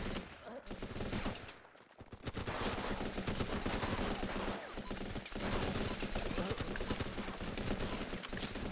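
Rifle gunfire in the war game Running With Rifles, with dense rapid automatic shots and overlapping bursts rattling nearly continuously, broken by a brief lull early on.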